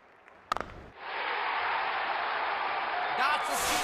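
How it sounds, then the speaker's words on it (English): Crowd in the Real Cricket video game cheers and roars steadily after a batting shot, a broad continuous wash of noise following a few sharp knocks at the start. "Crowd is enjoying every bit of this."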